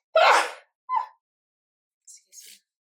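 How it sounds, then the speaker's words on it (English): A single person sneezes nearby: a sharp inhaled gasp, then a short burst, followed by faint breathy sounds in an otherwise quiet room. "I'm about to sneeze."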